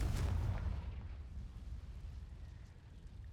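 Confringo fire spell exploding in the video game Hogwarts Legacy: a single loud, deep boom that rumbles and slowly fades over a few seconds.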